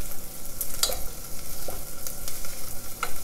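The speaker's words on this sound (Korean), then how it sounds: "약간 약불로 해서 이렇게 오래 볶을수록 맛있거든요" Finely julienned vegetables for a vegan Korean-style curry stir-frying over low heat, a steady close sizzle broken by scraping stirs, with no talk.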